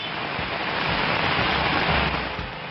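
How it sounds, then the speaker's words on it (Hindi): Steady rain showers falling in Delhi, a dense, continuous broadband hiss like rain on surfaces, loud and unbroken throughout with no voices. "दिल्ली में गर्मी से परेशान लोगों के लिए बारिश की बौछारें बड़ी राहत लेकर आई हैं"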